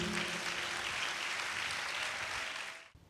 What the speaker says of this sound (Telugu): చప్పట్లు కొట్టండి సంతోషంగా.